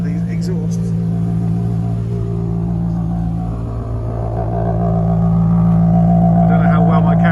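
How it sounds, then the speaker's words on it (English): An Alfa Romeo 8C Coupe idling, its exhaust giving a deep, steady rumble heard from behind the car that swells slightly louder toward the end, with a person talking over it. "I've got to step behind the car so you can listen to these exhausts."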